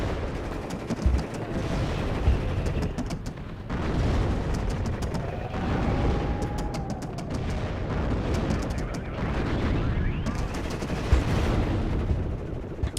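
Bradley armored vehicles fire in the WARNO war game amid a dense, continuous battle din of rapid gunfire bursts, booms and rumbling explosions, loud throughout.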